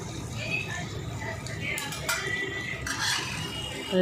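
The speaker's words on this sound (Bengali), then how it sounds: "আলুগুলো দিয়ে কষাচ্ছি" Chicken being stirred and sautéed with potatoes in a small pot in a mini toy kitchen, with soft scraping and clinking of a utensil against the pot running steadily throughout, and voices talking over it.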